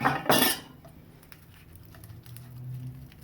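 A knife cuts into a fried pizza puff filled with tortilla layers, melted cheese, sausage and pizza sauce: a brief metallic clink on a plate, then faint soft scraping and crunching.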